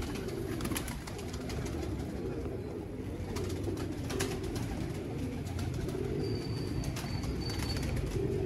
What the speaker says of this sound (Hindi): फिरोजपुरी असल कबूतर